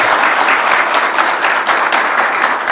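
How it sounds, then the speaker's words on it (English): Loud, close, dense applause from a gathering at a presidential residence honouring the 2020 National Science and Maths Quiz champions, a continuous roar of many clapping hands throughout. "Another round of applause to"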